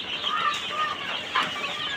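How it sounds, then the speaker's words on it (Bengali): Two-day-old Tiger and Egyptian Fayoumi chicks cheep in a constant overlapping chorus of thin, high peeps, close by and with no talk over them. "এগুলো হলো টাইগার মুরগির বাচ্চা এবং মিশরি ফার্মি মুরগির বাচ্চা,"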